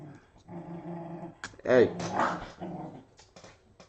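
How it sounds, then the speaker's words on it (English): Two dogs, one a puppy, yapping and growling close by, with a sharp bark burst midway, while a person talks over them. "It's the two dogs yapping in the background. It's the puppy."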